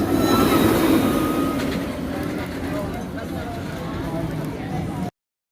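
Wildcat's Revenge roller coaster train pulling into the station at Hersheypark, a steady rumbling roll with faint wheel squeal close by, crowd chatter mixed underneath.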